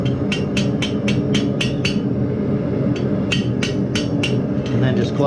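A metal grease lamp end is hammered closed on an anvil, with sharp ringing blows in quick bursts of about seven, a pause, then another series, loud and close against a steady background hum.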